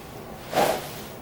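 A single sharp whoosh as a golf driver is swung hard through the air on a practice swing, rising and fading within about half a second against quiet surroundings.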